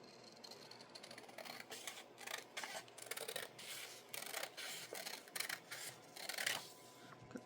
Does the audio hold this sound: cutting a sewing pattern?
yes